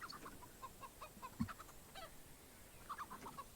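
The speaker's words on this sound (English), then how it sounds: "Poor Chicken just kind of got caught up in the wrong place at the wrong time." A chicken in a Counter-Strike match gives a few soft, scattered clucks, faint and somewhat distant, with a brief louder thump partway through and quiet game ambience underneath.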